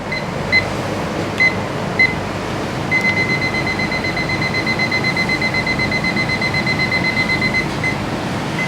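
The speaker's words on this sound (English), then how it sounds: "I'm going to set a timer here." A digital kitchen timer for a roast chicken beeps in short double chirps, then sounds a long run of steady rapid beeps, set against a constant hum of background noise.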